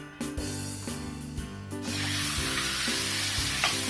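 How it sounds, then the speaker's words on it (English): Mutton marinated for an hour hits hot oil for a Kerala-style varutharacha curry, starting with spattering and stirring thuds, then swelling into a loud, continuous close sizzle with no talking. "To this I'll add the marinated mutton which I had marinated for 1 hour."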